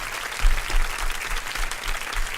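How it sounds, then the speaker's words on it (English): A small studio crowd on a radio show claps steadily, a dense, even wash of applause at moderate loudness that holds throughout without talk. "Clap it up for yourself, DJ"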